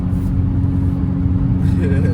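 A Dodge Scat Pack's engine heard from outside the car holds a steady, deep idle rumble with a strong low throb that stays even for the whole stretch.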